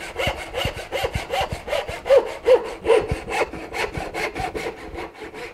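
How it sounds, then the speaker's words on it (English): A Bad Axe hand saw cuts through wood in rapid back-and-forth strokes, each rasping pass evenly spaced in a steady rhythm, close up and alone. "the Bad Axe saw"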